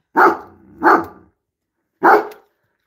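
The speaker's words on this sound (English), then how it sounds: "My dog is climbing." A dog barks three times, close and loud: two quick barks, a pause, then one more, with silence between them and no talking.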